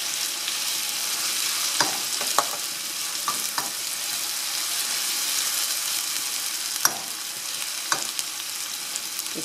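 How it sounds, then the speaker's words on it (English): Onion and garlic frying until brown in a pan, a steady soft sizzle that runs throughout with a few sharp crackles and stirring clicks, no talking. "So it might be take 1 or 2 minutes to get the onion brown."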